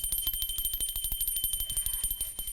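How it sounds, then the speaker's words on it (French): A small bell rings in a rapid, even series of bright strikes, close and fairly soft, with no voices over it. "À la cloche sonne, sonne, sonne."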